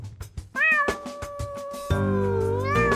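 A cat gives loud, close meows, a long rising-and-falling cry followed by a second sustained wail, with soft tapping sounds before and between them.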